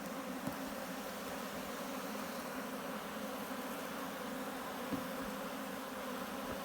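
Bees buzz in a steady, dense drone that stays even throughout, fairly faint and with no voices.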